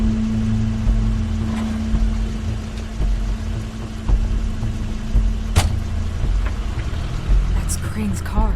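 Steady engine drone of Crane's car in The Wolf Among Us, a low continuous hum with a few brief knocks and clicks along the way, heard up close and unbroken throughout.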